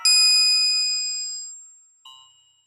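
Synthesized tones from a ChucK program set to random frequencies: a bright bell-like note rings out and slowly decays, then a second, shorter tone at a different pitch sounds near the end.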